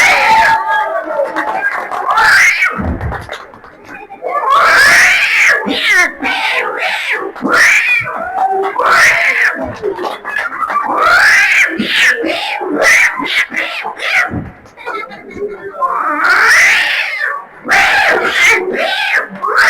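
A human voice imitates two cats fighting, producing repeated drawn-out yowls, wails and screeching caterwauls in loud bursts with short pauses between them.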